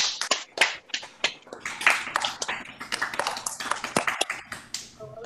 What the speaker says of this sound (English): let's have a round of applause for Ishan